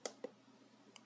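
The menu button on VRD2 Pro FPV goggles gives a few small plastic clicks, quiet and close, with brief taps at the start and end of a short stretch and no speech.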